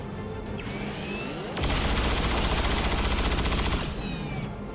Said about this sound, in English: Let's blow up the pump that the captain was nice enough to take cover next to.